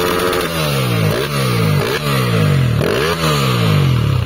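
A Honda Twister 340cc motorcycle engine revs hard in open air, rising and falling through four or five loud throttle blips in a row with a steady, close exhaust roar and no talking.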